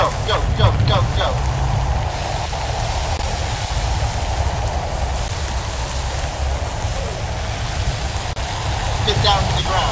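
Acid rain falls in the video game Natural Disasters as a constant dense hiss of rain on surfaces, loud and unbroken, with brief faint voices now and then.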